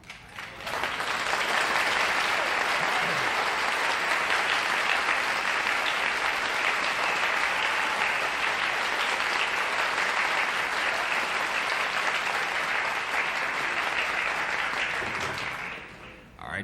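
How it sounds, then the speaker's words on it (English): Sustained, loud studio audience applause for a mystery guest entering a television game show, rising quickly and holding steady for about fifteen seconds before tapering off. "you can tell by the applause that it's someone that our audience is very well acquainted with"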